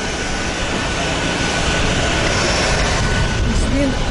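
Steady, loud roar of Ryanair jet engines on the apron while passengers climb the boarding stairs, a continuous broadband rumble throughout with faint voices underneath.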